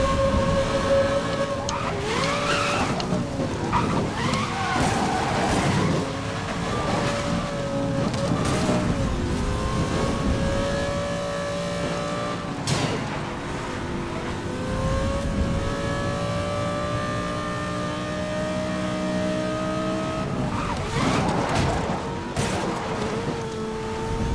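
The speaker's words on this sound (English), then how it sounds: "All the engine sounds in this game are... they're spectacular." Car engines in a Need for Speed Most Wanted 2012 race roar steadily throughout, rising and falling in pitch as the car revs through gears, loud and continuous with a few sharp jolts and a faint voice underneath.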